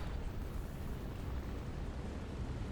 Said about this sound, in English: If we drop a bomb there, that should be right in perfect with that enemy tank there.